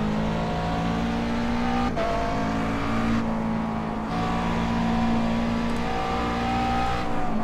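A Grand Am race car engine drones loud and close in the iRacing video game at Road Atlanta, holding a steady high-revving tone with brief drops and shifts as it works through the corners.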